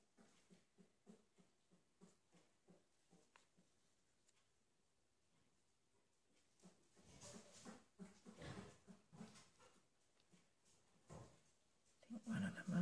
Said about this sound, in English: One of the mums is in with the puppies.